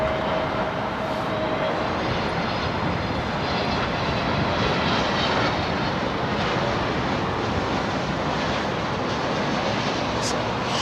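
An aircraft taking off from the southern runway at London Heathrow Airport, a loud, steady broadband engine roar that holds constant for about eleven seconds.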